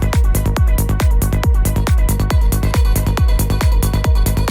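A psytrance track plays loud and dense, driven by a punchy four-on-the-floor kick and a rolling bass pulse under busy synth layers, with no talking over it.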